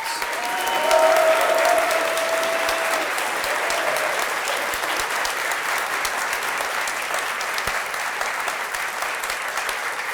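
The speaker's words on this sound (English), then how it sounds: "Please give them a big round of applause." Audience applause honoring Toby's Dinner Theater at a groundbreaking ceremony for a new performing arts center, a dense steady wash of many hands clapping that swells early then holds evenly throughout, with no talking over it.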